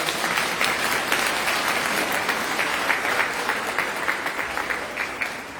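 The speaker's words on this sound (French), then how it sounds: "On peut applaudir cela, n'est-ce pas?" A church congregation at a French Sunday Mass applauds steadily for several seconds, a dense, even patter of many hands filling the room before it begins to fade.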